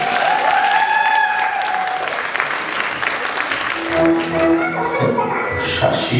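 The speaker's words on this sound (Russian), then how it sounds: "Встречайте громкими аплодисментами." Audience applause at a holiday concert before an Afro dance performance, steady clapping through the clip, with tonal music notes and a voice over it in the second half.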